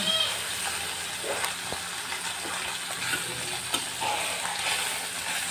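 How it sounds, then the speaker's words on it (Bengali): Small puti fish fry in oil in a pan on a village kitchen stove, giving a steady, soft sizzle with faint crackles and occasional clinks throughout. "পুঁটি মাছগুলো আমি ভাজতে দিয়ে দিলাম ভেজে নেই"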